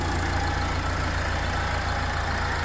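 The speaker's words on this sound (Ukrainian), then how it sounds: "Почуєте роботу двигуна." A 2012 Mercedes-Benz Sprinter diesel van engine idles steadily throughout, a constant low rumble with no revving or pauses, heard close by and alone.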